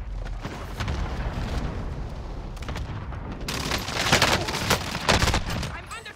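Video game gunfire rattles in rapid bursts of fusillade-like shots with booming impacts, growing louder and denser toward the end, while a voice talks over the top at times.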